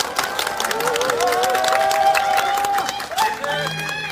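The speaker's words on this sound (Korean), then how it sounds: "뜨거운 환영의 박수 부탁드립니다." Crowd applause and cheering welcoming Democratic Party leader Lee Jae-myung at an outdoor press event in Ulsan, a steady wash of clapping lasting several seconds with some tonal music or voices above it.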